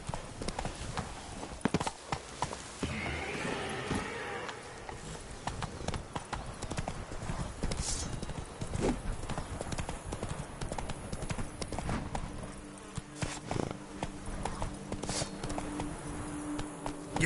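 A horse gallops in The Witcher 3 video game, with rapid, rhythmic clip-clopping hooves up close, a brief whinny, and a short spoken word early on.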